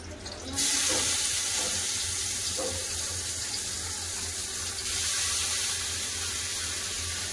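Tap water runs in a steady, close stream into a kitchen sink while snake gourd is washed, a continuous hiss and splash with a few faint clinks and no talk.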